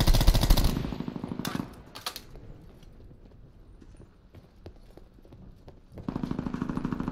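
Rapid automatic gunfire in an online shooter game, loud bursts at the start and again at the end with scattered single shots in between.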